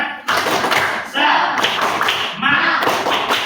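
Children in a classroom play a rhythmic clapping game, bursts of clapping alternating with chanted group voices in a call-and-response pattern, loud and close in the room.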